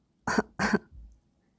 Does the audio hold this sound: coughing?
yes